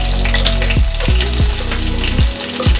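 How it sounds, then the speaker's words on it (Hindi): Green chillies and onions fry in oil in a pan with a loud, continuous sizzle close up, broken by a few soft stirring scrapes. "अब इसके अंदर मैं डालूँगी हरी मिर्च, हरी मिर्च के साथ ही मैं डालूँगी प्याज"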